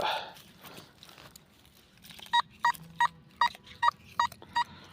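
A Simplex+ metal detector sounds a run of about nine short, evenly spaced electronic beeps over a target in the ground, following some rustling and handling noise outdoors.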